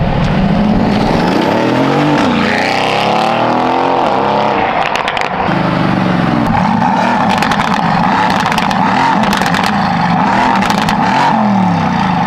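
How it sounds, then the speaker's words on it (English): A Mercedes-AMG GT S roars past in repeated flybys, its engine note rising loudly as it approaches and falling away as it passes, close and powerful with a continuous growl. "Now we're doing some flybys."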